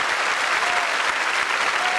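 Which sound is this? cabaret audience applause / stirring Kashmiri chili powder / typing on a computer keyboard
cabaret audience applause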